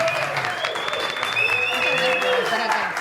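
An audience on an Afro-Argentine music radio program breaks into sustained applause welcoming a group, a dense steady wash of clapping with faint tones of talk or music underneath.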